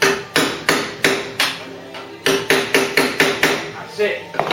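Repeated hammer blows knock loose the last spot weld holding a Ford Cortina GXL wheel tub during restoration, about a dozen sharp metallic strikes in a steady, slightly uneven rhythm, loud and close with no talk.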